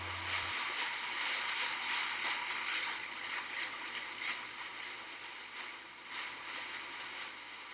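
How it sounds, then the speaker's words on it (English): Waves slosh and lap against a boat, recorded up close with a boom mic, a steady soft watery wash with faint creaks and ripples running throughout at low volume. "insert the separate recording of the waves off the boat through a boom mic"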